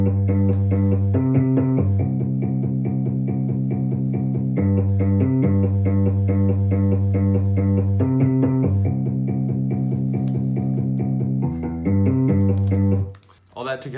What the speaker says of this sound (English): We used this Liverpool bass that's just in Logic Pro X, and then we added some overdrive on it, and EQ.